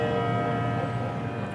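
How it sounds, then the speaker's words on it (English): A bell rings with steady, sustained tones that hum evenly throughout, close and fairly loud with no voices over it. "I love the sound of that bell."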